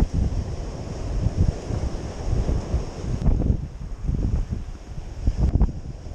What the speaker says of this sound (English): Just thought I'd show you the waves, how beautiful that is,